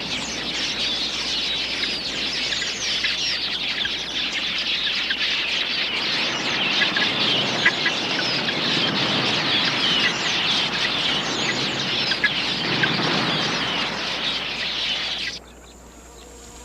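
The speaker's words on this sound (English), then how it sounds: "A flock of quilias makes a hit-and-run raid on the waterhole." A large flock of quelea birds swarms a waterhole, their dense high chattering and twittering forming a loud continuous wash that cuts off abruptly near the end.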